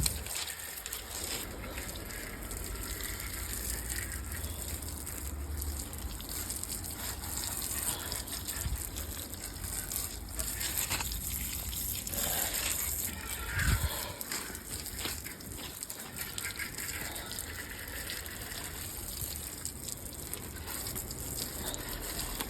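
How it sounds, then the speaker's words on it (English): A bike is hosed down with water during a wash, giving a steady gushing hiss of spray that runs the whole time at moderate loudness, with crows cawing faintly in the background. "then you're just hosing it down, giving it a good wash."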